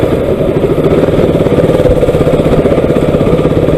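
KTM RC 200 motorcycle engine running close by with a steady, throbbing mid-pitched rumble that holds constant throughout, no voices present.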